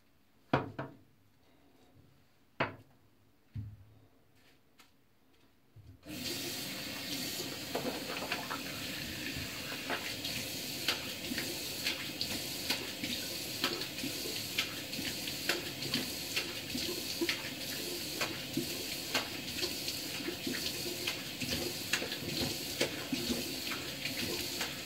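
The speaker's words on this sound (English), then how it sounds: "And I'll just go ahead and rinse my face." A tap runs into a sink while someone rinses lather from their face after shaving, a steady close splashing stream that starts after a few scattered knocks and continues to the end.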